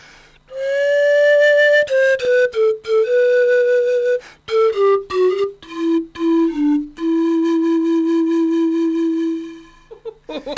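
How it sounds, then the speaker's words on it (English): A breathy bamboo pan pipe melody played alone, clear sustained notes stepping downward, with short gaps and quick note changes between phrases. "So this is a set of bamboo pan pipes"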